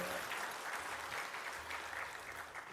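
A church congregation claps after a closing prayer at a dawn revival service, steady moderate applause filling the room for a few seconds and easing off slightly at the end.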